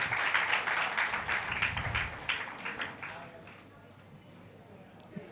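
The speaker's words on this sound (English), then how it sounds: "Give her a hand of applause." An audience at an international science conference gives a brief round of applause, a burst of scattered clapping that fades out within a few seconds, followed by quieter room sound.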